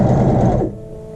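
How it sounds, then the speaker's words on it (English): A sewing machine running briefly while stitching a short back stitch on fabric for a child's shirt, a close, loud mechanical whirr that stops abruptly partway through, leaving a low hum. "That's what we're going to sew. Do a little back stitch."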